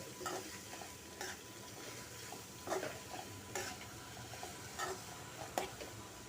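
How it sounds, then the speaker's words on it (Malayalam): Garlic, onion and curry leaves fry in a pan and are stirred, a soft steady sizzle broken by repeated scraping clinks of the spoon against the pan at irregular intervals. "നമുക്ക് സവാളയും കറിവേപ്പിലയും കൂടെ ചേർത്ത് കൊടുക്കാം. നന്നായിട്ടൊന്ന് ഇളക്കി മിക്സ് ചെയ്തെടുക്കാം."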